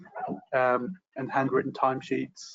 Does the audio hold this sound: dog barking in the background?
yes